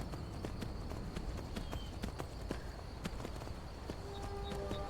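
A horse's hooves in the game Skyrim clip-clop at a steady walking rhythm, a quiet run of evenly spaced hoofbeats.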